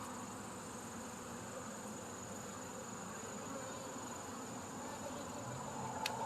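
Honey bees buzzing around an open hive during a farm inspection, a dense continuous drone of many insects, steady and moderately faint throughout, with no voices.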